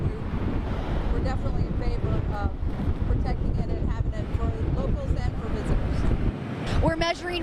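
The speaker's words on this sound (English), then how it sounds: "wind gusts out here as strong as 49 miles per hour" Strong wind gusts up to 49 miles per hour roar and buffet the microphone continuously beside a state road, with a person talking underneath the rushing gusts.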